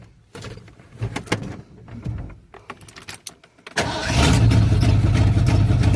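A car engine with a faulty, sticking starter solenoid cranks over in short bursts, then fires up and settles into a loud, steady running roar, with birds calling in the background.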